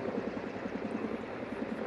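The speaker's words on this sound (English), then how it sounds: "you can watch the Osprey come in as it transitions from forward flight from the airplane mode to the helicopter mode" Marine Osprey tilt-rotor aircraft at an air demonstration, shifting from airplane mode to helicopter mode, with a steady, loud rotor thump beating rapidly and continuously over a broad engine roar.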